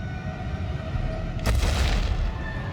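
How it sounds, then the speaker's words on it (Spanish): A distant earthquake rumble swells suddenly from a steady low background into a broad, loud, sustained roar that lasts to the end, with no talking. "De repente se oye un estruendo lejano. La tierra empieza a temblar."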